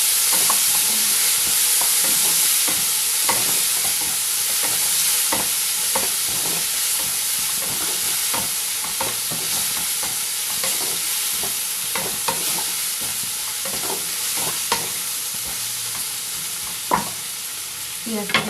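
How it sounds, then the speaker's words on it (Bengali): Onions frying in oil with peas and spices give a steady, close sizzle that runs the whole time, broken by frequent scraping clicks of a stirring spoon. No one speaks. "দিয়ে এটাকে ভালো করে পেঁয়াজটাকে ভেজে নিতে হবে"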